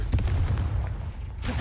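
A Confringo fire spell blasts in Hogwarts Legacy, a short heavy booming impact with rumbling low-end, loud and close, followed by another burst at the end.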